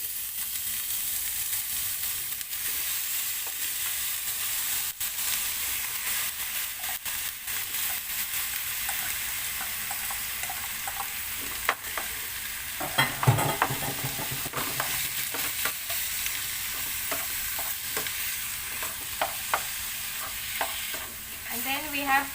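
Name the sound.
beef mince browning and sizzling in a frying pan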